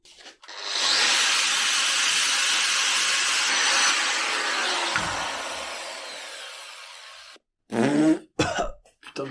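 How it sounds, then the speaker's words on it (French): Flap disc on an angle grinder scouring heavy rust off a lawn tractor mower blade, a loud steady abrasive rasp lasting several seconds that eases off, followed by a few bursts of coughing and throat clearing. "je vais commencer par lui mettre un petit coup de disque à lamelle partout, parce qu'elle est vraiment ultra rouillée"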